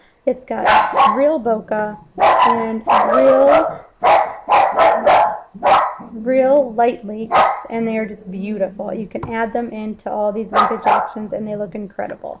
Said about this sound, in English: So I'm sorry about my dog, she's crazy